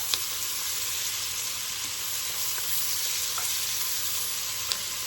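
Celery and onions frying in a pan, with a continuous bright sizzle and occasional soft scraping ticks from stirring, heard close and steady with no talking.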